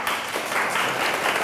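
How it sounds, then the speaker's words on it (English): Audience at a lecture on nutrition breaks into applause for Libby, a steady, dense patter of many hands clapping together at close range for a brief burst, with no voices over it. "I want to applaud Libby"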